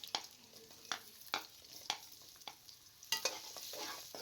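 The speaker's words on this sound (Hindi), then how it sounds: "आलू शामिल करके आपने 2 से 3 मिनट तक अच्छे तरीके से इनको फ्राई कर लेना है।" Potatoes sizzle gently in a pan with repeated soft scraping and stirring strokes, fairly quiet and close, no voices.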